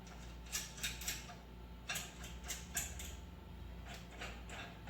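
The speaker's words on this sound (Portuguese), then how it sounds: "Fechamos com essa tampa do equipamento e prendemos então" Equipment lid shut and latched on a laboratory instrument, a series of close mechanical clicks and creaks in short bursts over a steady low hum, no voices.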